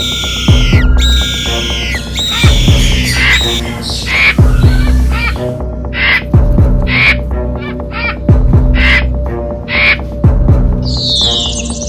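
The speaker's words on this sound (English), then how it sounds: "Those damn birds, they're attacking us." Harsh, crow-like squawking calls repeat in loud bursts, several birds cawing close by in quick succession over low background noise.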